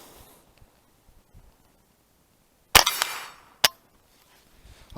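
A rifle shot rings off a steel target during a Ruger 10/22 versus Sub2k backpack-rifle shooting comparison, two sharp loud cracks about a second apart with a short ringing tail, against a quiet outdoor background.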